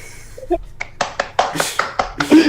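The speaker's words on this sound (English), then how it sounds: "Let's give him a round of applause." A few people clap at a casual live stream, a handful of separate hand claps spaced out over a couple of seconds, close and fairly loud, with voices mixed in.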